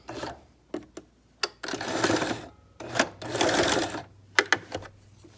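A sewing machine stitches the fabric panels of a tissue box cover in short bursts. Quick clicks and brief runs alternate with two longer stretches of steady whirring, close and fairly quiet, with no talk.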